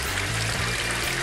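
Running water from a small mini washing machine, a steady broadband wash and trickle that holds at an even level for the whole stretch, close up with no voices over it.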